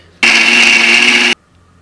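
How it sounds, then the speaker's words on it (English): Blender whirring through almond milk, chocolate protein, banana, peanut butter and oats, a single loud burst lasting about a second that starts and stops abruptly against near silence. "And now we blend."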